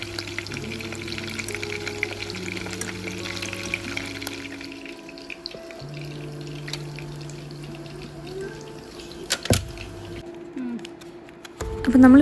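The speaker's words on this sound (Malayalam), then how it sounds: "2 സൈഡും നല്ലപോലെ ഫ്രൈ ചെയ്തെടുക്കാം." Chicken fries in hot oil in a pan over a low-to-medium flame for dynamite chicken, with a close, crackling sizzle, scattered clinks and clatter, and louder bursts near the end.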